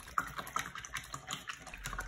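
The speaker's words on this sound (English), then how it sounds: "Stir, stir, stir, and you'll be good to go." Soapy warm water with Dove soap is stirred in a bowl, giving close, irregular little splashes and clicks in quick succession, faint and alone.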